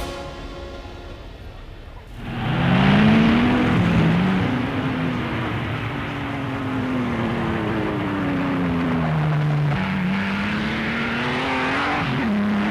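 Silver Arrows racing cars roar past in a loud, sustained engine drone that rises and dips in pitch as they go by, fairly close, with no voices over it.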